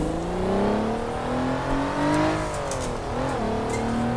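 A Honda NSX engine in a racing video game drones and revs at Suzuka, its pitch climbing steadily, dipping briefly near the end, then rising again, heard alone and continuously.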